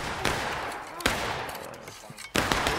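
Rifle volleys in the War of Rights Civil War game: three loud, sharp massed musket volleys, each a crashing burst that rolls into a long reverberant tail, spaced about a second apart.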